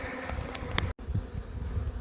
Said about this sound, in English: shake the bees in the other 2 boxes into the first box